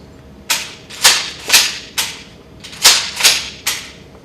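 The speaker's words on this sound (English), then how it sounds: "After inspecting the shotgun further and confirming it was unloaded, he demonstrated the firing of 3 shots." An unloaded pump-action shotgun dry-fired in a demonstration, giving seven sharp, close mechanical clacks at uneven intervals, each with a short ringing tail, and no voices.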